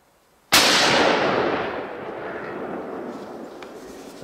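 A single loud rifle gunshot from a deer hunt cracks sharply after a brief quiet moment, then booms and rolls away over several seconds as a long fading echo, with no voices heard.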